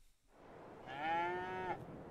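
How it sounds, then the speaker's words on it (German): A single cow in the farming game Farming Simulator 22 lets out one drawn-out, fairly quiet moo lasting under a second, alone against a soft background hum. "Ja, meine Kühe, die machen hier sich richtig bequem."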